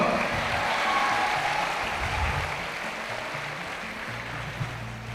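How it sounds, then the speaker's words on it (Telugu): An audience claps loudly at a talk, a dense, sustained wash of applause that slowly eases off over several seconds, with no speech over it. "అందుకే మిమ్మల్ని గట్టిగా చప్పట్లు కొట్టమన్నాను"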